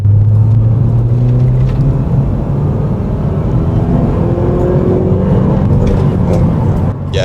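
A petrol car running on a 40% diesel blend accelerates flat out, its engine a loud, steady droning rumble with tones that slowly climb as it pulls, heard from inside the car and filling the whole stretch.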